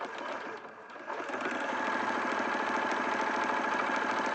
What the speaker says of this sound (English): I'm just sewing straight across